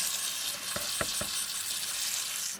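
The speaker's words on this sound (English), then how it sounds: "We've got an air blower," Air blower drying a fuel injector wiring harness on a 2000 Land Rover Discovery, a steady close broadband hiss with a few brief clicks near the start.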